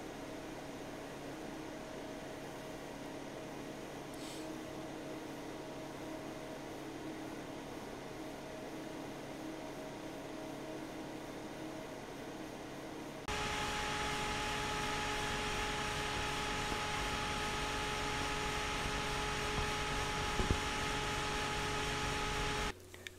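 Scythe Grand Tornado PC fan running at high speed around 2000 RPM, a steady broadband whoosh with faint hum that jumps noticeably louder partway through and then holds constant, with no talking.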